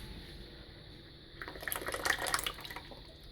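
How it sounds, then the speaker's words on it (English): Leftover chicken tikka marinade pours into a curry pan, a wet splashing and trickling that swells in the second half, fairly close and alone with no talk. "you can add the marinade, the remaining of the marinade"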